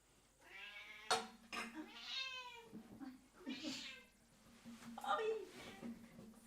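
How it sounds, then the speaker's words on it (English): A pet cat meows repeatedly, four or so drawn-out, plaintive cries spaced a second or two apart, fairly close with a little room noise between them. "I want to show you my cat."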